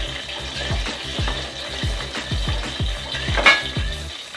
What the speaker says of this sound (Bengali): সবগুলো মাছ আমি এভাবে উল্টে পাল্টে ঢাকনা দিয়ে ঢেকে ঢেকে ভেজে নিয়েছি